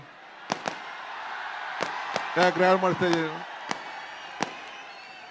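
Firecrackers bursting at a Karaga festival: several sharp, loud pops are scattered across the clip, with someone talking briefly in the middle.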